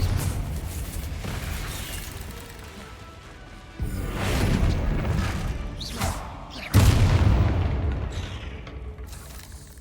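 The Confringo spell explodes in the Hogwarts Legacy video game as several dull booms and crashes, with two sharp bursts standing out amid scattered game noise and no clear talk.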